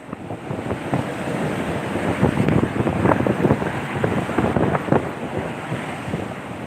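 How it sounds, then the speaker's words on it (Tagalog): Rough sea at Gumaca, Quezon, a continuous wash of choppy waves mixed with heavy wind buffeting the microphone, loud and steady throughout. "Medyo maalon."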